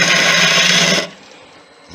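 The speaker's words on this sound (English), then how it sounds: "we grab a spindle gouge and we start shaping this head" A spindle gouge cutting a teak snowman head on a spinning wood lathe, a loud broadband rasping scrape for about a second that stops abruptly and leaves a quiet lathe hum.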